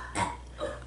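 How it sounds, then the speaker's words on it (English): Two burps from a boy making himself burp, close and clear, a stronger one followed by a shorter, softer one. "He can make himself burp."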